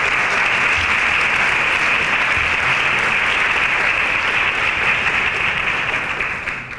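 Sustained audience applause at an evening event on electing women and people of color to public office, a dense, steady wash of many hands clapping that holds evenly, then tapers slightly at the very end.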